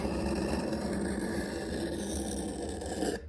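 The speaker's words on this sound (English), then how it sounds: "Take the knife, place the bevel on the stone." A kitchen knife being sharpened on a sharpening stone, a steady close gritty rasping scrape that runs without pause and cuts off abruptly at the end, no talking.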